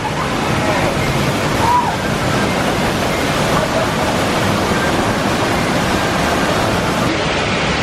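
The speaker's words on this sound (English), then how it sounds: "That waterfall is shooting out far today." A steady, loud rush of a waterfall pouring onto a raft ride roars continuously, with splashing and no breaks.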